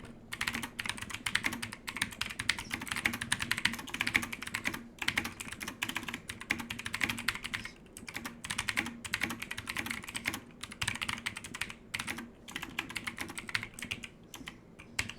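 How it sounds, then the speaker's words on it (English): Fast, continuous typing on a computer keyboard clatters close up, with dense key clicks in bursts separated by short pauses and no voices. "I'm typing something out really quick."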